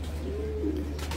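A pigeon gives one short, soft coo over a low steady hum, followed by faint rustling.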